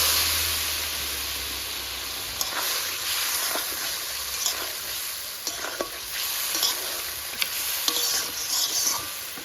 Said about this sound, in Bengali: মশলাটা খুব ধৈর্য সহকারে কষাতে হবে